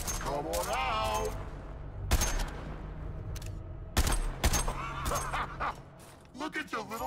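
Gunfire from Suicide Squad: Kill the Justice League: dense bursts of shooting with sharp broadband cracks around two and four seconds, mixed with game effects, while voices talk over the action.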